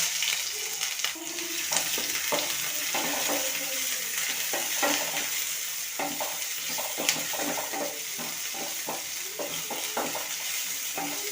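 Onions sauté in coconut oil in a pan, a continuous sizzle with frequent spatula stirs and scrapes, close and steady, with no talking.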